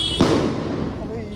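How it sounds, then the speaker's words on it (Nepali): Firecrackers burst on a street in Salugara, Siliguri: one sharp, loud crack near the start, then a dense, noisy rumble of crowd and traffic with voices mixed in. "पटेका पो पड्काएको रहेछ"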